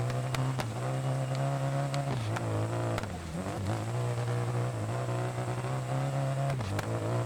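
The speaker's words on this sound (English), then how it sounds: "Car's having a lot of issues right now." Damaged rally car in Dirt Rally runs a strained, continuous engine drone through an Australian stage, its pitch sagging and rising several times as the driver lifts and reapplies throttle, loud and close with no voices.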